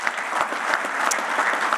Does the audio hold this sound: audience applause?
yes